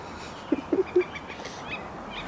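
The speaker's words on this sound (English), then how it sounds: "Oh, hi, little chickens." A few chickens in an urban backyard garden give short clucks, three or four quick calls close by, then fall quiet against a soft background hush.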